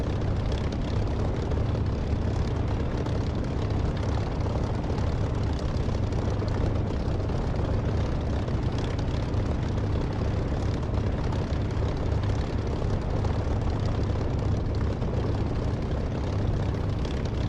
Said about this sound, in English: I'll reset my nose down for takeoff, and away we go.